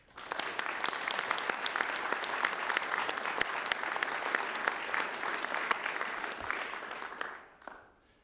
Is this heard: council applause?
yes